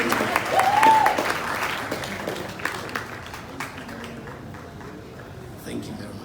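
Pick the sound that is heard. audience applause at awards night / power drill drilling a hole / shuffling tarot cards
audience applause at awards night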